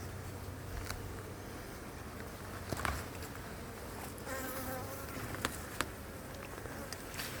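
Honeybees hum in a steady, dense buzz around an open hive frame during a colony inspection, continuous and close with faint clicks and handling noises over it.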